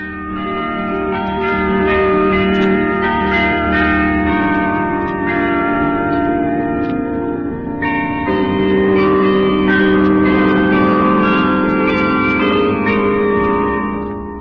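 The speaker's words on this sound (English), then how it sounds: "It's from the Sun Life Carillon, largest in the world, with 671 bells." The 671-bell Sun Life Carillon at Expo 67 rings out a continuous melody with rich sustained tones and echo, playing steadily and loudly throughout with no voices.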